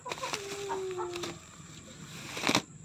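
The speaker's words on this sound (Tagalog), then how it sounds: "Ito yung bagong saltang manok eh." Native chickens cluck close by, with a short drawn-out call and scattered clucks over a quiet rustling background.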